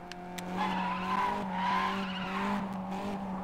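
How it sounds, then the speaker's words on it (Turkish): A steady car engine drone from the racing game Asphalt 8: Airborne+, a Subaru Impreza, with tyre skidding noises swelling and fading, synthetic-sounding and moderately quiet. "Motor sesi çok iyi."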